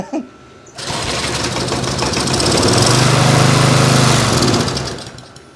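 The small engine of a 1991 Stiga Multiclip lawn mower sputters, catches and then runs steadily with a rough, buzzing drone that grows louder before it dies down, the mower shaking.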